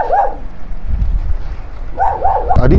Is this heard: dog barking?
yes